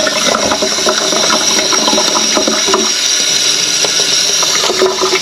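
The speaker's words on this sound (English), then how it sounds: "I'll water it" Water poured onto a newly sprouting houseplant in its pot, a steady splashing trickle lasting several seconds, close and fairly loud, with no voices.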